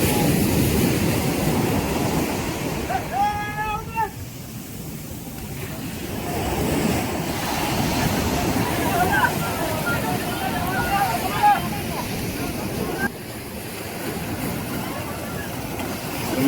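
Sea waves washing and surging at a shore as a fishing boat is launched into the water, a constant roar mixed with wind buffeting the microphone, while people talk over it.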